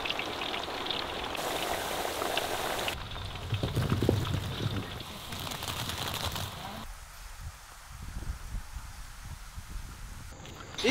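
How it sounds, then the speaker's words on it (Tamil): Hot oil sizzles and crackles steadily as boiled elephant foot yam fries, the bubbling rising and falling in intensity, close by. "வேக வச்ச சேனக்கிழங்க எண்ணெயில் பொரிச்சு எடுக்கணும்."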